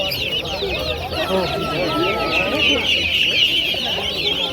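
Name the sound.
chickens clucking at poultry market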